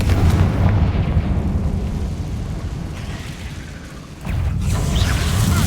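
A Confringo fire spell blasts in Hogwarts Legacy, a loud, rumbling, booming explosion that fills the whole clip, dipping slightly before a second heavy burst near the end.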